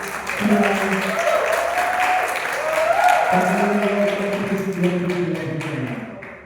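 Applause from a group in a room, steady clapping with voices calling out over it, continuous and fairly loud before fading slightly at the end.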